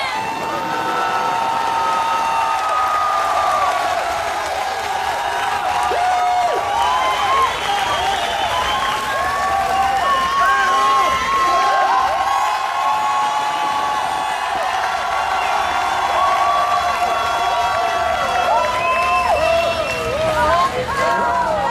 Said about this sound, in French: Et on applaudit le joueur du grenier.